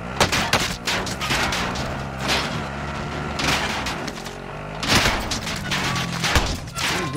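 Gunfire from the Call of Duty Verdansk game, with dense bursts of automatic fire and sharp shots cracking from several directions, loud and overlapping in rapid clusters.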